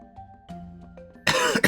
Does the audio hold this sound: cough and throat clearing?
yes